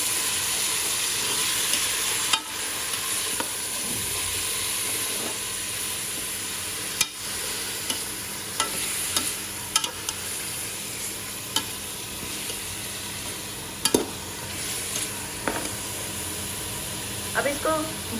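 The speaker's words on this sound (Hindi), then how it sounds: "अब इसको भूनना है अच्छे से।" Washed meat fries with spices in a pan, giving a constant close sizzle and hiss. Sharp clinks and scrapes of a spoon stirring break in now and then throughout.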